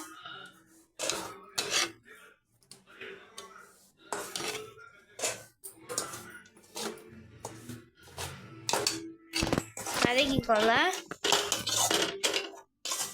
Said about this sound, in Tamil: வதக்கிக்கிட்டே இருங்க. நல்லா வதக்கிக்கோங்க. இங்கே பாருங்க, ரவை வதக்கிக்கோங்க நல்லா ரவையை.